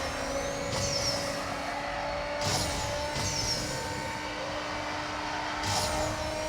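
Nissan GT-R race car engine in the racing game NFS No Limits, a steady loud drone with a sustained tone, with brief whooshing sweeps from passing cars about three times over the run.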